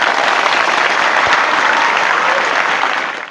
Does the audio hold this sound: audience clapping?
yes